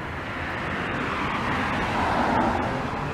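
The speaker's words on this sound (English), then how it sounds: "Except for when the cars are passing by" Cars pass along a nearby road, heard from a garage doorway on a gloomy day as a continuous broadband traffic roar that swells slightly toward the end.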